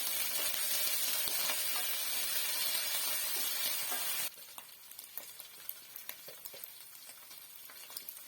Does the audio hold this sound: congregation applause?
no